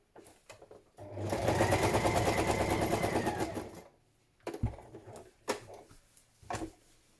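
A sewing machine stitches through thick layered fabric with three layers of wadding and two of fabric, giving a steady close whirring run of about three seconds, followed by a few short bumps and handling knocks.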